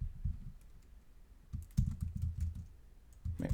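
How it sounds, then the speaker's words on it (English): Typing on a computer keyboard while entering a line of text in the Vim editor: close, soft clattering keystrokes come in uneven bursts separated by short pauses. "suppose I were to type this line here"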